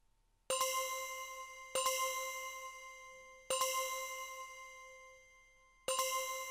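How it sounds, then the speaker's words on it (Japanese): Phone notification chimes ring out four times at irregular intervals, each a clear bright metallic ding that decays slowly in an otherwise quiet room. "無視をしても県からの通知が途絶えることはありませんでした。"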